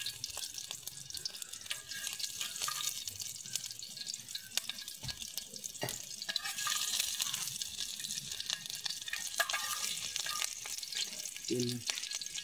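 Green chillies sizzle and crackle in hot oil for paneer bhurji, a faint, steady hiss with scattered pops and small clinks throughout, alone without talk.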